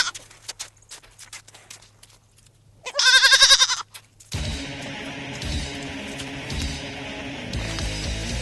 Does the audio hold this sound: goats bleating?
yes